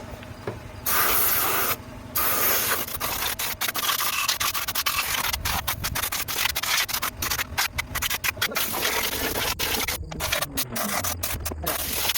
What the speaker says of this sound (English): As you can see, I'm just spraying everything. Everything metallic, exposed.